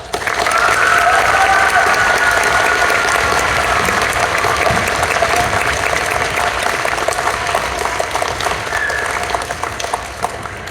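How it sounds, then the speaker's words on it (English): Sustained, loud applause from a school audience at an elementary school award celebration, dense clapping continuing steadily for about ten seconds and tapering slightly toward the end. "Please join me in giving them a round of applause."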